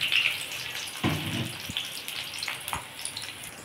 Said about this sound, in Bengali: এই তেলের মধ্যে আমি এবার পেঁয়াজটা দিয়ে দেবো।